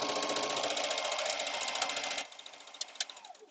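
A sewing machine stitches a seam with a quarter-inch allowance, a fast close rattling hum running steadily for about two seconds, then stopping into a few soft clicks and handling noises.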